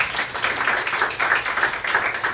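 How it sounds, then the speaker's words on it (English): A small audience claps together after a class presentation, a steady patter of hand claps at moderate loudness, nearby and without talk, lasting a couple of seconds. "You guys can clap."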